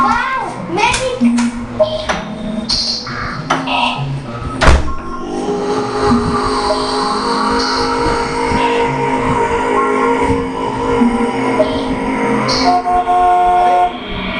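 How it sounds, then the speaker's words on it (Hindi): A vehicle horn honks in short repeated blasts over a busy street or rail scene with traffic rumble, a voice and chatter mixed in, as someone urges a stalled vehicle blocking the road to move. "ये हॉर्न सुनाई नहीं दे रहा क्या?"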